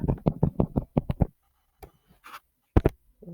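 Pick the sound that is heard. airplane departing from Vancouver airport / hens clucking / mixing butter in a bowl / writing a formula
writing a formula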